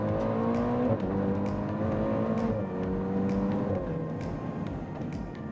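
A Ferrari Portofino accelerates hard, its engine climbing through the revs with steady rising pitch and brief dips at gear changes, loud and sustained from close by.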